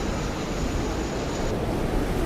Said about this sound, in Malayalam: കാറ്റ് അല്പം കൂടുതലാണെന്ന് തോന്നുന്നു. കടലിന്റെ നടുക്കായതുകൊണ്ടായിരിക്കും.